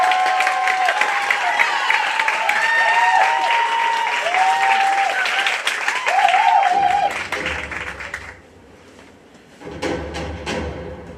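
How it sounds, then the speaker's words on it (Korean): An audience claps for a school staging of Macbeth, sustained dense applause with a few whistles or cheers, fading after about eight seconds before a brief pickup of noise. "큰 호응과 박수 부탁드립니다"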